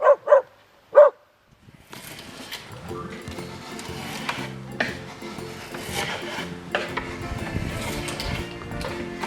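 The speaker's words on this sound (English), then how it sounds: "So you just keep planing it until you get the flat board you're trying to get." Hand plane shaving a cedar board into a canoe rib, steady repeated rasping strokes close by after a few short sounds at the start.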